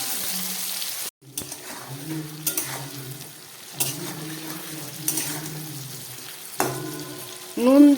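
Vegetables for a vegetarian curry fry in a pan after salt goes in, a crackling sizzle broken by several stirring scrapes and a brief watery hiss near the end.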